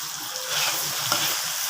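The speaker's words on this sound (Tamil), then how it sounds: "அந்த பாதி கத்திரிக்காய் வதங்கினதுக்கப்புறம் உப்பு போட்டு வதக்கணும்" Brinjal sautéing with salt in a clay pot gives a continuous close, bright sizzle and frying hiss, with a light stirring scrape partway through and no talk.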